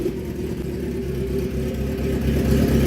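A motorcycle engine runs with a loud, continuous throbbing rumble that swells slightly toward the end, heard close with no voices.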